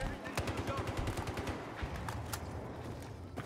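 Sniper and rifle fire crackles in Battlefield 4 as a rapid run of sharp, fairly faint shots, followed by a few scattered single cracks.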